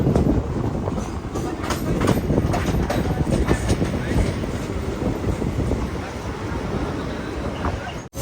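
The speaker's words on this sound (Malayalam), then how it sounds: "മംഗള, അയ്യോ മംഗള എക്സ്പ്രസ് ആയിരുന്നു" The Mangala Express passes close by during a sleeper-class train journey near a tunnel, a loud continuous rumble and rush of rail noise with wind buffeting, steady throughout and cutting off abruptly at the end.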